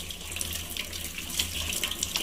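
Vegetables are rinsed under a running kitchen tap, a steady close rush of water splashing into a sink that continues evenly throughout with no talking.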